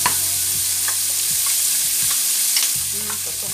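Young onions frying in a pan with salt cod make a steady, close sizzle, broken by repeated rhythmic scraping strokes of a spoon stirring across the pan bottom.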